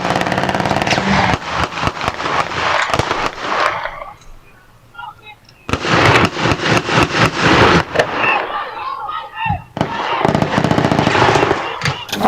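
Rapid bursts of gunfire from a shootout at a residential pool, loud repeated volleys of sharp cracks in dense clusters with short quieter gaps between them.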